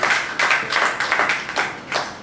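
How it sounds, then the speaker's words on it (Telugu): An audience at a church sermon claps loudly together in a series of strong, uneven bursts that swell and fade over about two seconds, with no talking. "చప్పట్లు కొడదాం ఒకసారి గట్టిగా."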